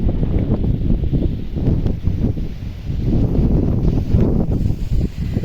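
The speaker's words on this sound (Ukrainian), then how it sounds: "А вітер страшний" Strong wind buffets the microphone in a continuous low roar, gusting louder and softer throughout, with no voices.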